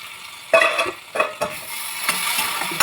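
Vegetables for a Bengali chorchori, with potato among them, fry in a pan and are stirred. Several sharp scraping strokes cut through a steady sizzle, and the loud frying carries on between the strokes.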